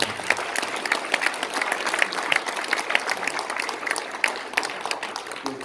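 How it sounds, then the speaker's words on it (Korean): An audience at a commemorative panel discussion gives warm, sustained applause, a steady dense clapping with scattered sharp claps standing out throughout. "뜨거운 박수 한번"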